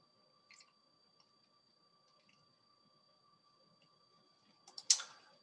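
Quiet, sparse clicks from a computer mouse while working in database software, with one sharper cluster of clicks near the end and faint keyboard-like ticks earlier.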